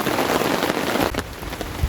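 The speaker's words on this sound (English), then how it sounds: "The rain has still not let up." Torrential rain drums steadily on a camping tarp in a riverside forest, a dense, loud, continuous hiss that eases slightly toward the end, with no voices.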